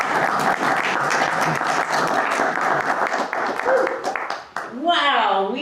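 An audience at a house concert applauds in a dense, steady wash of clapping that fades out near the end, followed by a voice speaking up close.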